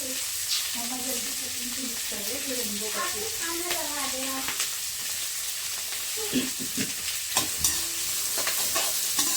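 Peas, corn and onions sautéing in a pan over a high gas flame, a steady broadband sizzle with spoon stirring and scraping clicks, while someone talks over it in the first half.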